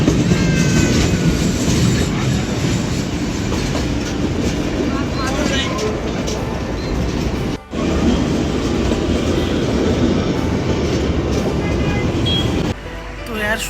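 The Kalka-Shimla toy train rolls along its rails, heard from on board as a loud, continuous rumble and rattle with a brief dip midway, and voices mixed in under the noise.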